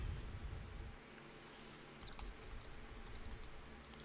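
A password is typed on a computer keyboard, with quick, soft key clicks close by over a low background rumble, and nobody speaking.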